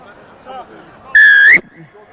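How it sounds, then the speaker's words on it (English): A referee's whistle at a sports match gives one loud, sustained shrill blast of about half a second, cutting sharply through faint background crowd chatter. "wait for the whistle, okay?"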